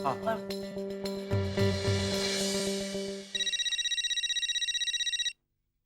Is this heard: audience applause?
no